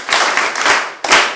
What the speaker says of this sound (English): Can we clap hands for